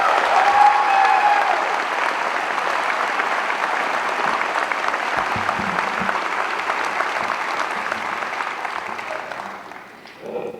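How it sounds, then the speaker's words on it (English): Graduating class at a May 2011 Penn College commencement ceremony applauding, a dense, steady roar of many hands clapping that holds for about ten seconds before tapering off. "Now give yourselves a round of applause."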